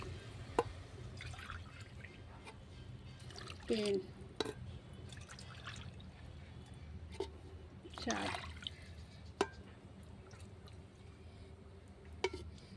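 Water trickles and splashes as it is poured into a cooking pot of chickpea-lentil bhuna khichuri, faint and intermittent beneath a person talking, with a few sharp clinks.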